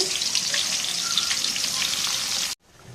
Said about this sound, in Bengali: একটু পেঁয়াজ দিয়ে দেব এখন তেলটা গরম হয়ে গেছে